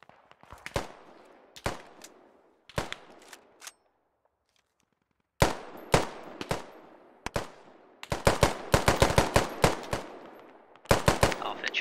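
Bursts of suppressive machine gun fire in Squad: sharp, loud volleys of rapid shots with short gaps, a brief silence, then longer and denser strings of gunfire that echo and decay, with no talk.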